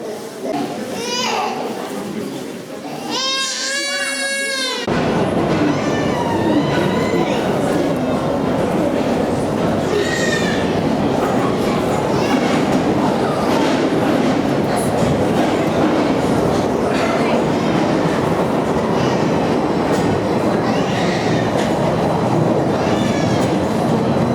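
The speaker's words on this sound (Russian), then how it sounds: "А вот тоннель, где мы ожидаем поезд." A metro train roars into a tunnel station, a steady loud rumble with rattling wheels filling the space, after a moment of quieter sound with a child crying. The train runs to a cave entrance.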